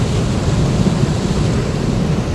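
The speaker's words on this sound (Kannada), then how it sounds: "ಡ್ಯಾಮ್ ಚಾನಲ್ ನೀರು ಸಂಪೂರ್ಣವಾಗಿ ತುಂಬಿ ಕಡೆಗೆ ಹರಿದು ಹೋಗ್ತಾ ಇದೆ." Water from the Marikanive dam channel flows in a full, steady rush, heard as a loud continuous low roar with wind-like noise and no pauses.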